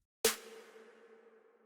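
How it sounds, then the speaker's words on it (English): A single snare drum hit cracks sharply, then rings out into a short, fading reverb tail with no other sounds. "we first have this snare reverb right here that in isolation sounds like this"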